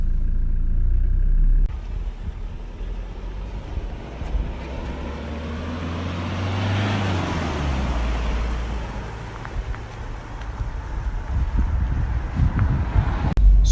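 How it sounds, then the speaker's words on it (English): Mitsubishi Shogun Sport with a 2.5 litre turbo diesel drives along local roads, a steady low engine drone and road rumble with wind noise that surges and eases, heard from inside the car without talk. "let's take it for a drive around some of my local roads"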